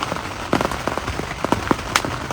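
Heavy rain falls at night beside a lake on a carp fishing trip, a steady close patter of drops striking a surface, with sharper taps now and then and no talk.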